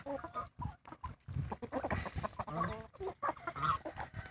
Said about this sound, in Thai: พ่อจับไก่แปดเดือน